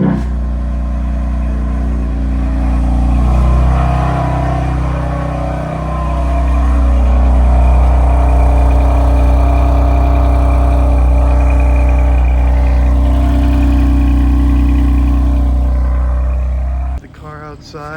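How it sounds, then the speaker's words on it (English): A BMW M4 Competition parked outside runs steadily as it warms up, a loud, continuous low engine drone with a mild swell mid-way, ending in an abrupt cut. "The car outside, waiting for it to warm up."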